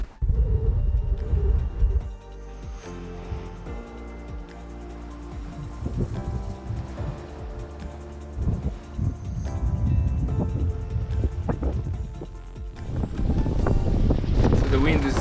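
Steady wind rushing past a Seawind 1600 sailing catamaran out at sea in 12 to 14 knot trade winds, a continuous broadband roar with gusty swells, while a person talks over it.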